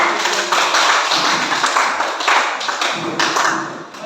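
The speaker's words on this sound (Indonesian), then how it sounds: "berikan tepuk tangan." A room full of people applauding, dense and loud, clapping steadily for several seconds before starting to thin out at the end.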